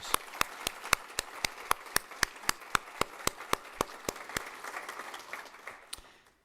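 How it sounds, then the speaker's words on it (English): Applause at a prayer breakfast, heard as a sparse, regular series of sharp claps, evenly spaced and fairly faint, thinning out over about six seconds. "Would you please give Jim a round of applause?"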